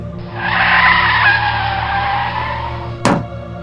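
A car skids with a long, loud tire screech, then slams into another car with one sharp impact near the end, on a foggy mountain road.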